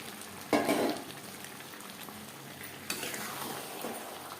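Fried potatoes go into a fish curry simmering in a pan, landing with a brief splashy sizzle, followed by faint bubbling and a second scraping stir against the pan.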